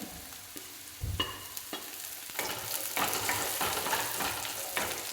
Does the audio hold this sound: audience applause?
no